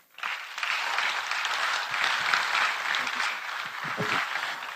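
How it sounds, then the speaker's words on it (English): Audience applause at a venture capital investment ceremony, steady dense clapping from a sizeable crowd that starts abruptly and carries on at an even level throughout. "Please, one more time, can we give him a round of applause"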